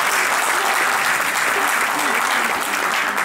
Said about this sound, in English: And we give a round of applause to that.